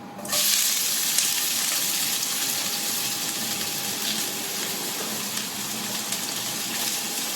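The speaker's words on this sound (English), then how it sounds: "once minyak dah panas, I'm going to add my chopped onion" Chopped onion drops into hot oil and sets off a loud, dense, continuous sizzle that holds steady throughout with no voices.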